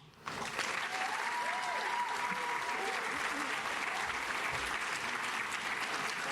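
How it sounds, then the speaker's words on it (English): An audience at a pro bono recognition celebration applauds its graduates; sustained, full clapping starts abruptly after a quiet instant and continues steadily, with faint voices and a whoop mixed in. "One more round of applause for all of our graduates."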